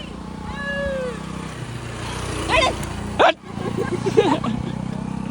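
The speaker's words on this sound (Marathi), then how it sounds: "मांजर आली मांजर" A cat gives a drawn-out meow early on, followed by people talking and moving about nearby.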